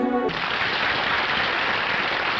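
Audience applause after a ballet performance in the 1948 film The Red Shoes, a dense, steady wash of clapping that starts right after a brief held musical tone.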